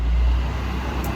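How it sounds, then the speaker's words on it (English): Road traffic outside an old Sicilian palazzo rumbles through from the front hall, a low steady roar of a passing car with no talk over it. "every once in a while, you're gonna hear some cars"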